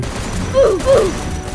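Rapid gunfire in a shooting video game, a short loud burst with two sharper swelling shots over steady background game noise.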